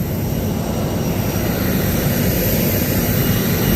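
A loud, steady roar of a jet airliner engine at Tirupati Airport fills the scene, constant and close, with no voices.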